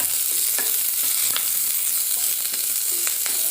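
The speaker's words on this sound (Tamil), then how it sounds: "பூண்டை போட்டு வதக்கிட்டு ஆனியன் போட்டுக்கலாம்." Garlic, onion and bajji chili sizzle steadily in a hot pan, a dense close frying hiss broken by light scrapes and taps of stirring.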